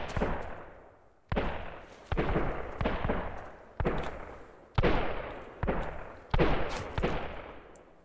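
Repeated gunshots from the survival game Sunkenland, seven sharp cracks at irregular intervals of roughly a second, each followed by a decaying echoing tail, fairly loud with no talk.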